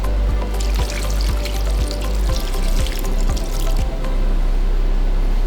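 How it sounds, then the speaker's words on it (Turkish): Water runs in a steady, close stream into a pan of chicken mince meatballs and vegetables, with soft pulsing gurgles as the liquid fills around them. "köftelerin üzerine çıkana kadar su ilave edeceğiz."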